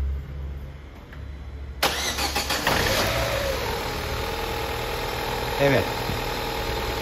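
A car with a repaired crank position sensor socket cranks and fires up, then settles into a steady, smooth idle up close, with a voice briefly heard near the start.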